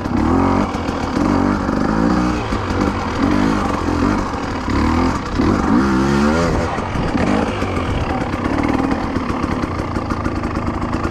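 A 2020 Husqvarna TE300i two-stroke enduro motorcycle is ridden during hard enduro and trials training, its engine loud and close, revving and dropping in uneven bursts as the rider works the throttle and clutch over obstacles.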